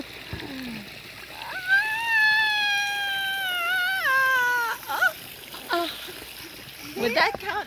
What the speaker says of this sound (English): Going to the falls.